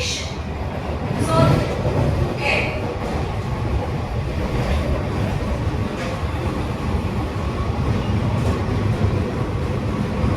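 An AC local train on the Sealdah–Kalyani run overtakes a Dankuni local, heard from inside as a continuous loud rumble of wheels and carriages, with people talking faintly underneath.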